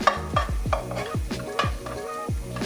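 An omelette sizzles in a frying pan while a utensil stirs and scrapes it in repeated strokes, close by and moderately loud.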